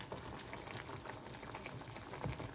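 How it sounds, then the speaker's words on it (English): Hot pepper sauce simmering gently in a pot on a stovetop burner turned low, a faint, steady crackling bubble with occasional soft pops. "now I'm going to lower it down to about a 2 on my stove and then let it simmer for 10 to 15 minutes"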